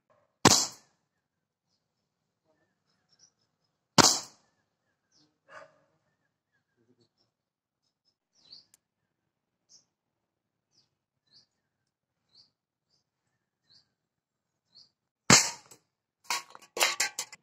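A Walther CP88 .177 calibre 4.5 mm CO2 air pistol fires four sharp, loud cracks. Two come early and are spaced apart, and two more follow at the end amid quick clicks and handling noise, with faint ticks in the quiet between.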